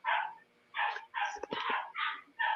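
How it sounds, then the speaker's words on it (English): Puppies bark in a rapid series of about six short, high yips at close range, with a brief low rumble among them and no talking over them. "I'm trying to get the puppies to be quiet."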